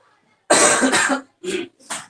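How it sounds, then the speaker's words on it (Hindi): Three coughs from one person close by: a long, harsh first burst, then two shorter ones after a brief pause. "खांसी हो गई"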